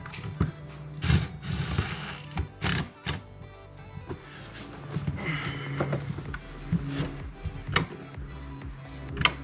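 A ratchet snugging down bolts during a Ford Focus AC evaporator replacement, with a series of close, quick mechanical clicks in short bursts and scattered clanks from the tools.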